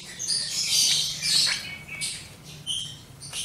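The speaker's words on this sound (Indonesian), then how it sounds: "Ini adalah anakan lobet" Month-old lovebird chicks give repeated high, thin chirps and squawks in close bursts, alone with no talking.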